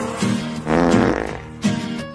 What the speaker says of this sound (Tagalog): Baho nga utot ni gawas sa lubot